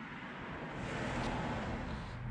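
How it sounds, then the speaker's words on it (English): Road noise inside a moving Volkswagen Syncro van, a loud broadband rush of tires and wind that holds steady for a couple of seconds with no talking. "Pardon the road noise."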